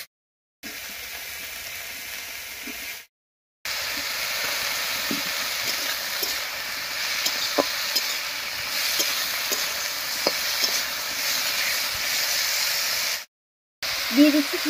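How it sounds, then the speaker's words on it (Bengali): Diced potatoes and onions fry together in mustard oil in a kadai, giving a steady close hiss and sizzle broken by occasional light stirring taps, with brief silent gaps. "আলু আর পেঁয়াজটা একসঙ্গে করে ভেজে নেব।"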